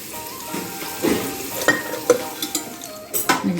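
Tomatoes cook in a pan with a continuous close sizzle, broken by several sharp scrapes and clinks of a spoon stirring against the metal.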